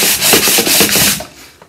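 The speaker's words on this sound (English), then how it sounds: "you take your sandpaper and you wrap it around a piece of scrap wood" Sandpaper wrapped around a scrap wood block scrubs across painted furniture, giving several quick, close back-and-forth rasping strokes that fade out near the end.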